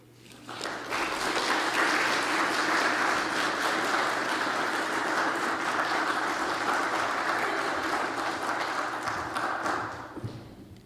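An audience applauds steadily for about nine seconds to welcome a lecturer, a dense, even wash of clapping that swells quickly, holds level, then tapers off, with no voices over it.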